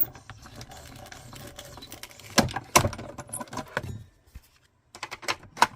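An embossing folder with card stock inside is cranked through a manual embossing machine, making a few sharp clunks and rattles over quiet handling noise, then a brief pause and more clicks.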